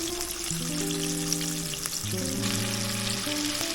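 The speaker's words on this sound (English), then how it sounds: "Now we're frying up the rest of the rabbit and the squirrel." Steady crackling sizzle of rabbit and squirrel meat deep frying in hot oil, close up, with a few soft pops and no voices.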